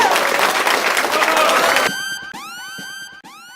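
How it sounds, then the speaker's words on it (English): A round of applause and cheering from a crowd lasts about two seconds, then cuts to a loud, close siren-like electronic sound effect. "Let's give that brother a round of applause real quick."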